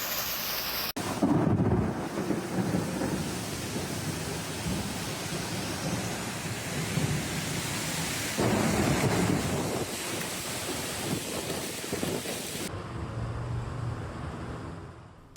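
Thunderstorm with heavy rain, a dense roaring wash of downpour with deep rumbling swells, loud and continuous before cutting off near the end, with no voices.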